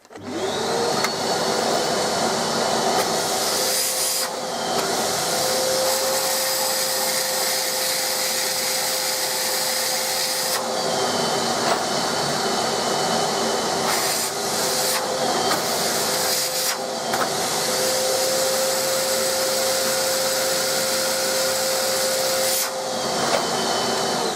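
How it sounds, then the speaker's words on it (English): A Nilfisk Aero 26 wet/dry vacuum runs loudly and steadily throughout, its motor drone joined by intermittent rattling and scraping as concrete screws are sucked up the hose. "It just shows that the vac's got some real power."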